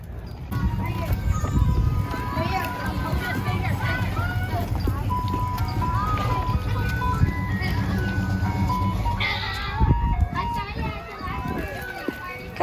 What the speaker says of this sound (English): Do you want the ice cream from the ice cream truck?